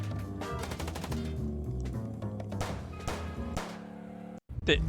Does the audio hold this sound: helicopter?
no